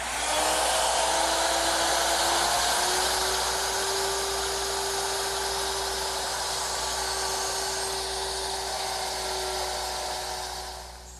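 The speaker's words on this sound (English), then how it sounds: "I've changed the bit to 1/4 inch, and I'll just mortise each of the legs." A router fitted with a quarter-inch bit whines steadily as it cuts mortises into wooden table legs, a loud continuous high-pitched drone that holds even before tapering slightly at the end, with no talking.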